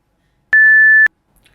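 A single steady electronic censor beep lasts about half a second and sharply cuts out speech, loud and clean, with a brief faint murmur afterward.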